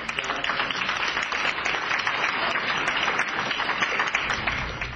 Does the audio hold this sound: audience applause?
yes